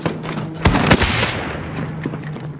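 Bursts of automatic gunfire in Call of Duty: Modern Warfare, loud rapid volleys with sharp cracks, several close shots standing out among continuous firing.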